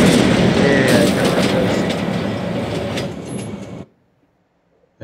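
A train rumbles along the tracks in the video game Spider-Man: Miles Morales, a loud dense roar with clattering wheels that continues for several seconds, then cuts abruptly to silence.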